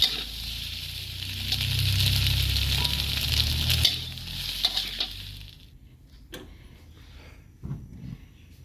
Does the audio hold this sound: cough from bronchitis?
no